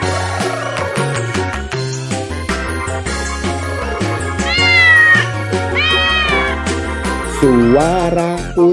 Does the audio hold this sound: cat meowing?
yes